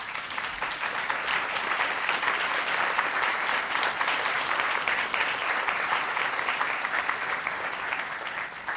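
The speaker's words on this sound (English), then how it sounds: "I'm absolutely certain this is the first time I have ever been applauded for being extremely lucky." An audience at an evening plenary event gives steady, sustained applause, a dense wash of clapping hands that continues evenly throughout without any voices standing out.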